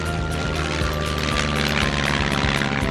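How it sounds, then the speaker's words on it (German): A cartoon seaplane's propeller engine roars steadily and close, droning with a rushing, watery wash as it builds speed on the water and takes off. "Das Wasserflugzeug beschleunigt und hebt ab."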